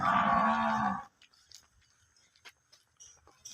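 A healthy, well-built dairy cow at a farm sale gives one loud, close moo lasting about a second, followed by near silence with a few faint clicks and rustles.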